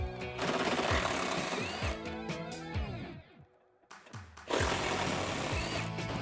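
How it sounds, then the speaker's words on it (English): Dense rapid ratcheting and clattering from an 8 mm socket on an extension loosening bolts under a 2017-2019 Ford F-250 Super Duty 6.2L engine bay, loud and continuous with a short lull midway before it resumes. "there are 2 8mm bolts holding this guy on. Grab your extension and 8 socket and get those off."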